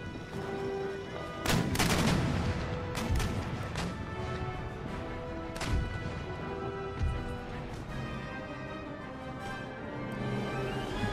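Ship cannons firing in the naval battles of Empire: Total War, a game set in the Age of Sail, heard as heavy booming blasts scattered across the clip over a steady battle din, with the loudest shots near the start.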